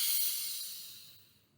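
A deep inhale through the nose during a grief meditation, a single soft airy hiss that starts strongest and tapers away over under two seconds, close and quiet with no talking.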